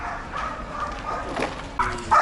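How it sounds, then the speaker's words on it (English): Dogs playing together in a park dog area in Turia Gardens, Valencia, giving a few faint, scattered barks and yips against quiet outdoor ambience, with a louder bark near the end. "You can see it's even a nice area for the local doggos to come and play"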